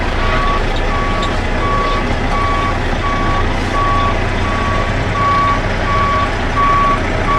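Tractor trailer reversing with its backup alarm sounding, a steady string of evenly spaced beeps over a loud low truck engine rumble, with faint talk mixed in.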